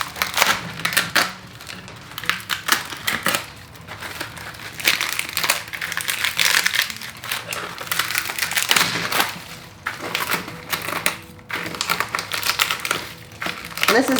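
Dried luffa skin is peeled away by hand outdoors on a front porch, giving dense, irregular crackling, crunching and papery tearing bursts close up throughout, with no speech.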